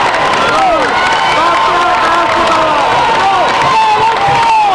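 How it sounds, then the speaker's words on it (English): A home crowd roars and cheers at a girls' varsity Class C championship basketball game in the fourth quarter, a loud continuous wall of shouts and whoops with voices rising and falling throughout. "NAC crowd getting up, trying to propel their team on to victory"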